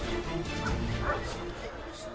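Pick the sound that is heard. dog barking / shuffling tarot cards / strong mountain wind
dog barking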